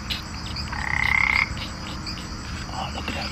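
A frog croaks once in a drawn-out, buzzing trill against a steady outdoor hum, fairly close and clear, followed by a fainter call and then only the background.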